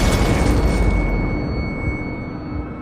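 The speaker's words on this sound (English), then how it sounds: "There's a sudden explosion." A sudden explosion in a tabletop roleplay street scene, a loud broadband boom with a deep rumbling roar that starts at full strength and slowly fades over about three seconds, no voices.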